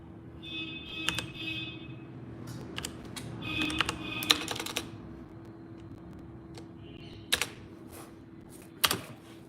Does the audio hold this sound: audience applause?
no